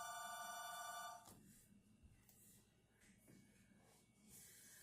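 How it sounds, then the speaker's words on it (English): A telephone bell rings loudly for just over a second, then cuts off, leaving a quiet kitchen with faint low background noise. "We forget to turn the phone off when we're videoing."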